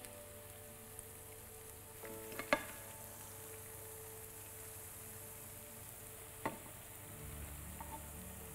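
Millet and carrot fritter frying in hot oil in a pan over medium heat, a steady soft sizzle throughout with a couple of brief utensil clicks.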